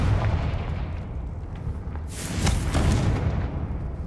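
A Confringo spell blast in the game Hogwarts Legacy, giving one loud bursting explosion midway that rings out over a low, steady rumble.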